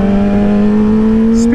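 A motorbike engine revs loudly and close by, its tone rising steadily through the short burst, with a faint voice in the background.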